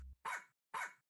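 Two sharp, close dog barks a half second apart ring out in the video game Milo and the Magpies, with silence between them.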